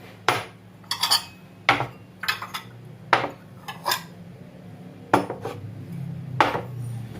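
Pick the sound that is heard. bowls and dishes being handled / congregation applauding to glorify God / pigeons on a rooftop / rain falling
bowls and dishes being handled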